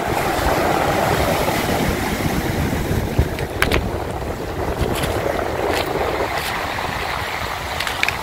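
Black Sea waves wash in a continuous broadband rush at a beach, mixed with gusting wind, with a few sharp splashes and knocks partway through.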